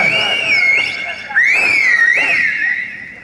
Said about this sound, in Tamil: கை தட்டுங்க சீட்டி அடிங்க வீரர்கள் உற்சாகப்படுத்துங்க